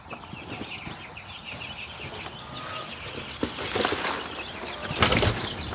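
Meat bird chickens clucking on an off-grid farm property: a mix of soft clucks and chirps at moderate distance, with occasional knocks and rustling that grow busier toward the end.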